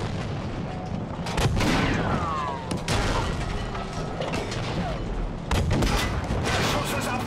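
Heavy gunfire booms amid battle noise, with whistling, sweeping tones of a tank shell glancing off a Tiger tank's armor; loud, with several impacts and explosions.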